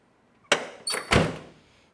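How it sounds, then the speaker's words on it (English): A 1979 Chevrolet Corvette door swings shut with a solid thunk, followed by a second heavier latch thump that rings out briefly, close and loud with no talk. "Let's shut the door and we can move on."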